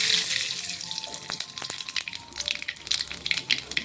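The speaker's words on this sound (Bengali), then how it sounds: "এবার কালো জিরে ফোড়ন দিয়ে দিলাম।" Nigella seeds hit hot oil with a steady broadband sizzle, scattered small pops and a few sharp crackles from the seeds, heard close and continuous with no talking.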